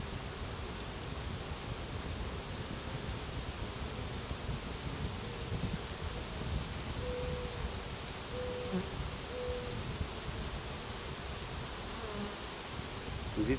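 A low, continuous buzz of many honey bees in a hive fills the space, steady and close, with faint tonal hums drifting through.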